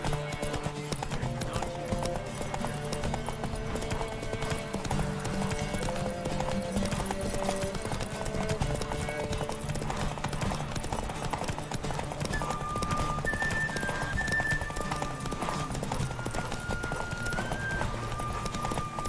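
Horse hooves gallop in The Witcher 3 video game, a steady, fast clip-clop that runs throughout at even loudness beneath layered game music, with a brief neigh-like sound.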